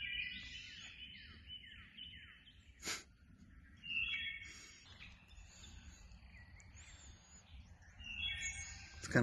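Birds sing and chirp across a garden on a spring morning, with repeated descending whistled phrases and assorted tweets layered over a steady low ambient rumble, some calls near and others more distant.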